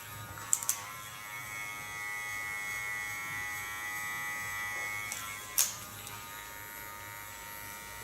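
An electric hair clipper buzzes steadily as it trims hair for an asymmetric bob, with a few faint clicks and taps at the start and near the end.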